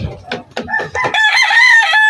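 A rooster crows loudly and close, one long drawn-out call after a few short clucking notes.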